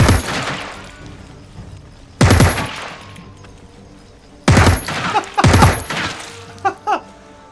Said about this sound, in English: Oh man, that was some sad shooting there.